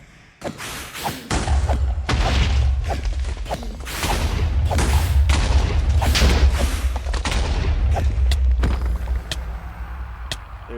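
An explosion in the Minecraft modpack Ragnamod VII, a loud sustained booming rumble with sharp bursts layered on top, close and forceful, fading out near the end.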